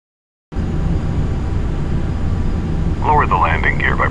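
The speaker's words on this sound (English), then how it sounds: "Reduce thrust to idle and begin descending towards the runway." Jet airliner engines idling in Flight Simulator X on visual approach to runway 23, a steady low rumble after a brief silent start, with a voice talking over it in the last second.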